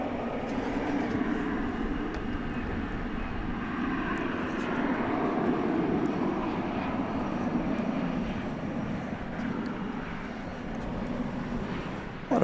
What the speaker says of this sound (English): American Flight 2709 to Palm Springs is going out. It's an Airbus A321, and that is it right there.